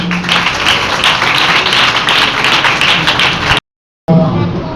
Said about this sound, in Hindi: आए खुदावन के लिए जोरदार तालियां